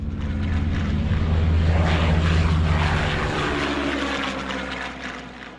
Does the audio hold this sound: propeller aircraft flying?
yes